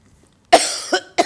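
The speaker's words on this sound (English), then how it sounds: "coughing, getting carried away." A sharp cough followed by two shorter coughs, close and loud against near silence.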